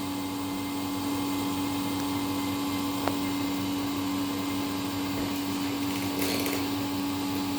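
A vacuum impregnation machine runs under vacuum with broccoli inside, giving a steady droning motor hum with a constant tonal whine, unchanging and continuous, with a faint click partway through.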